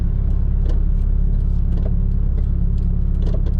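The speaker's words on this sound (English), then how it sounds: "Here we go, we got a turbo Subaru." A 260 kW turbocharged Subaru with a screamer pipe idles loudly and close, a dense, steady rumble with a fast, throbbing pulse and occasional sharper bursts over the top.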